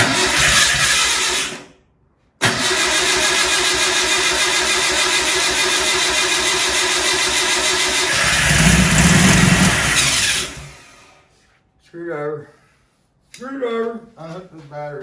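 A rebuilt air-cooled 40HP VW engine cranks briefly, stalls, then fires up on first start and runs loud and rough for several seconds, revving once before shutting off, followed by people talking.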